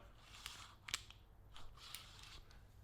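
A Baseus Free2Draw retractable USB-C cable is pulled from its base, giving a quiet, smooth whirring of the reel wheel broken by a few faint ticks and clicks, close up.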